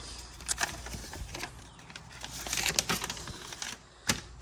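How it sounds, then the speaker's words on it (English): A T30 Torx bit backs out the forward wide screws beside the rear hatch of a Dodge Hornet, giving a run of sharp, irregular clicks and ticks up close, with a brief quieter pause before a final crisp snap. "Use a T30 Torx bit to remove the forward wide screws next to the rear hatch."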